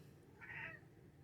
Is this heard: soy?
no